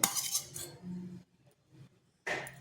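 A spoon clinks against a bowl as curd is added, giving a few bright metallic taps at the start and end with a quiet pause between.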